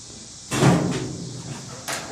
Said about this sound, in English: I open the lid